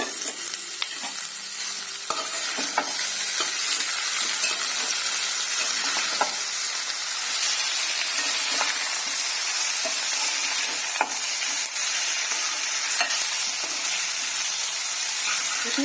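Potato and fenugreek leaf fry stirred in a hot pan, a steady broad sizzle running throughout with repeated scraping strokes and light clicks of the spatula, close and fairly loud, with no talking.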